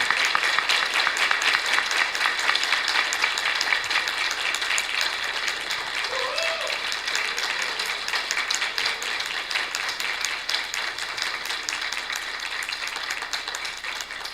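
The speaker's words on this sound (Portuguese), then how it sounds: "os aplausos demonstram claramente o entusiasmo da assistência" A conference audience applauds steadily after a lecture at a legal congress in Maceió, a dense even wash of many hands clapping that carries on for the whole stretch, with faint voices underneath.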